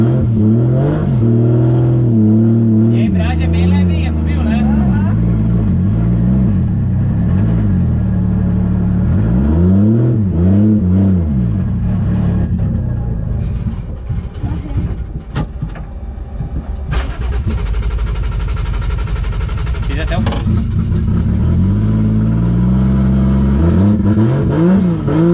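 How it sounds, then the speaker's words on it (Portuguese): Nissan 350Z drift car engine revving repeatedly at a standstill and under load, loud rising and falling blips with a steady idle between, close up with no talk. "meu carro tem que levantar um pouquinho o giro pra ele andar, tá?"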